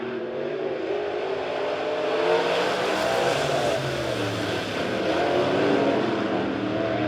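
USRA A-Modified race cars accelerating together at a green flag start at Springfield Raceway, a dense, continuous roar of several engines at full throttle, swelling slightly as they pass.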